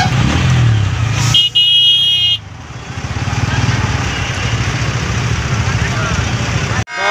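Jammed road traffic near a riverside Tusu fair by the Kansai river, with car and motorcycle engines idling and rumbling close by, a brief horn blast early on, and voices mixed into the crowd noise.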